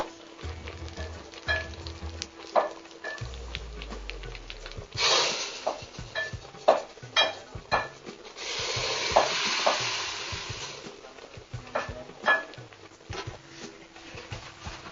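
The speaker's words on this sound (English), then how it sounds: "The ghee and the jeera have been sputtering and they're ready. Now we need to put it in the dalma" Hot ghee with jeera (cumin) sputters and hisses as the tempering is poured into dalma, with bursts of loud sizzling, crackles and low clatters spread over a longer stretch.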